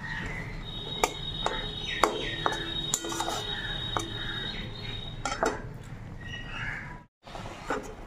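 Ground spices stirred into chalta (elephant apple) pickle in a pan, with a spoon scraping and clinking steadily over a low background hum, close and continuous before a brief drop-out near the end.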